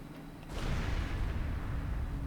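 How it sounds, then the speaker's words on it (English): A loud explosion in The Legend of Heroes: Trails Through Daybreak II, from a villa near a secret passage, bursts in after a quiet start and keeps roaring as a broad, sustained rumble to the end. "What was that explosion?"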